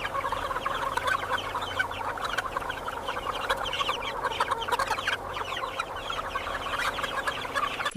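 Dense clucking and chatter from a large flock of young broiler chickens inside a warm, ventilated hatchery barn, a steady continuous din of many birds with no clear individual calls standing out.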